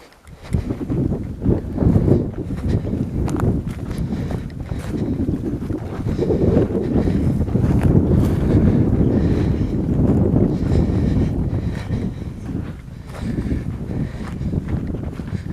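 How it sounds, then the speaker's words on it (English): Strong wind buffets the microphone outdoors, a loud, rumbling, gusty roar that swells and eases over the whole stretch without any clear voices. "Hopefully this wind is not too bad on you guys."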